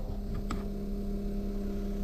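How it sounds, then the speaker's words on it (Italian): Compressor of a VEVOR 15-litre portable camper fridge running, a steady low hum with a faint tonal whine, continuous and fairly quiet, with a tiny click early on. "Questo è il rumore del compressore, a mio avviso più che accettabile."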